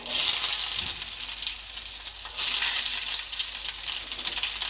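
An onion dropped into hot oil sizzles loudly and steadily, a bright hissing fry that holds strong from start to end with a brief swell partway through.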